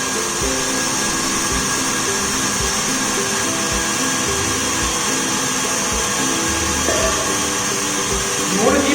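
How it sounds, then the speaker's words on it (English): An electric whisk runs steadily through macaron batter flavoured with cocoa powder, a continuous whirring drone that stays loud and even throughout with faint rhythmic beats from the beaters. "You can see that it's whisking well."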